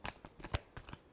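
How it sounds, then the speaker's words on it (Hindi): A short, soft run of tarot cards shuffled by hand, a few quick papery flicks close by in a quiet room, with no voice. "Last shuffle."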